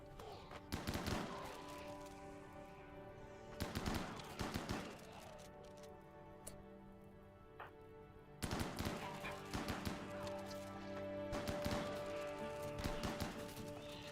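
Bursts of rapid gunfire crackle during a raid in RimWorld, several clusters of sharp automatic shots separated by quieter gaps, with a sustained game music tone underneath.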